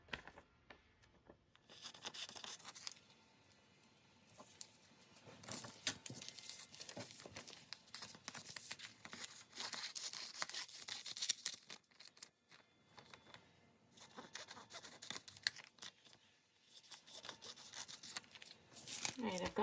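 Scissors or a blade cutting paper and plastic for junk journal window envelopes, a long run of close, scratchy rasping and crinkling strokes that rise and fall over about twenty seconds.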